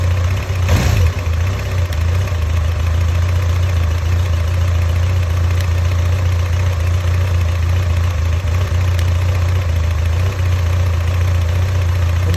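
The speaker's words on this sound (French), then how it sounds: "Et à un moment donné, il y a un petit cliquetis." A motorcycle engine idles steadily and up close with a continuous low hum, a faint light ticking riding on top of it.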